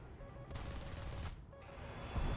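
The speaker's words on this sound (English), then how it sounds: "We do fire some rounds at him." Aircraft guns in a combat flight video game, fired at an F-18. Two short bursts of rapid gunfire cut through steady engine drone, then a heavier low thump closes out the clip.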